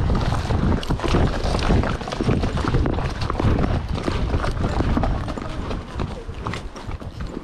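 Horse hooves on the Tevis Trail between Swinging Bridge and Michigan Bluff, a continuous loud scuffing and clopping of a brisk walk mixed with wind and rider movement, close to the microphone.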